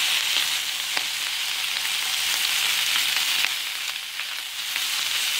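Bacon frying in a pan for a BLT sandwich, a loud, dense, continuous sizzle heard up close, dotted with small pops and crackles and no voices.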